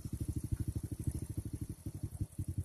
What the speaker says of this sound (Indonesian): suara mesin motor akan menjadi normal